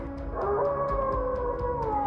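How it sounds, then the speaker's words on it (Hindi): Dogs outside give a long, loud, wavering howl that holds steady, with faint rhythmic ticks in the background, used as a sound effect. "बाहर से कुत्तों के जोर जोर से भौंकने की आवाजें आने लगी"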